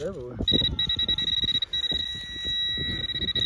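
A metal detector on an old Middle Georgia farm emits a steady high electronic beep as it dies, sustained for a few seconds under close talking voices.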